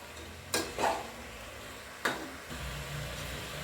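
Country chicken is stirred with masala in a hot pan over high flame, with two sharp scraping strokes of a spoon against the metal over a soft, steady sizzle.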